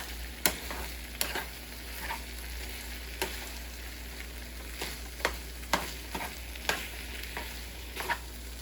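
Spam fried rice sizzles and fries in a pan, with a steady hiss broken by repeated scraping stirs of a spatula every second or so.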